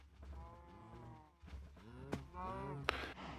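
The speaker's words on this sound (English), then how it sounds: "We got cows." Cows mooing in Minecraft, several drawn-out low moos one after another, fairly close and clear, with a little game ambience between calls.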